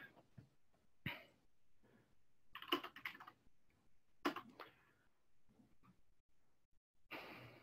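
Keyboard typing during an air traffic control sequencing session, with the keyboard held upside down; scattered bursts of key clicks and taps, fairly quiet and close, with no talk.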